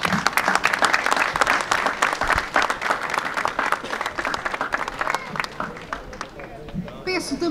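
At the opening of a festival parade in Doze Ribeiras, a crowd applauds in a dense, lively burst of clapping that gradually thins, with voices mixed in beneath.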